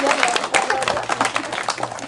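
Audience applause at the opening of an outdoor educational game event, a crowd clapping steadily and fairly close, with talk over it.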